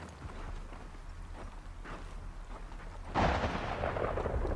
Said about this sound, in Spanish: Llega tormenta.